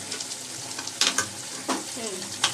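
Meat and potatoes frying in a pan as they are stirred, a close sizzle with a few louder scraping bursts from the spatula, no talking.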